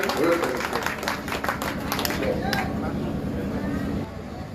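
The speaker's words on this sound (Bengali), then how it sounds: "আপনারা হাততালি দিয়ে" A crowd at a public relief gathering claps for an honoured guest, with scattered sharp claps in the first few seconds under a loud amplified voice, the clapping thinning out as the voice carries on.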